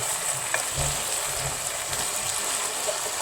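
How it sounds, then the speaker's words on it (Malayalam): Cauliflower for Gobi Manchurian sizzles and crackles in a pan while being stirred, a close, steady frying hiss with soft scraping thumps from the stirring. "കോളിഫ്ലവർ ഇട്ട് ഇതിനകത്തേക്ക് നന്നായിട്ട് ഇളക്കുക"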